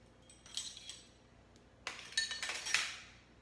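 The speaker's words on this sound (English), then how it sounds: "we're going to whisk in slowly 1/2 cup of extra virgin olive oil" A whisk works extra virgin olive oil into Dijon mustard for a dressing, with light clinks and scrapes of metal against a bowl in short bursts that grow busier toward the end. The sound is faint and close, and no one speaks.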